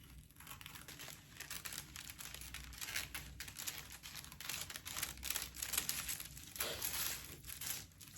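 Close, quiet crinkling and rustling of tracing paper being handled and cut for a sleeve pattern, with continuous papery crackles and small snips and no talk.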